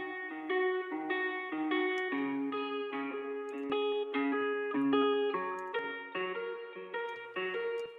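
Tegeler Raummaschine reverb plugin on its studio setting, a subtle reverb tail adding space around a steady, sustained harmonic instrumental passage with changing chords, played continuously without talk.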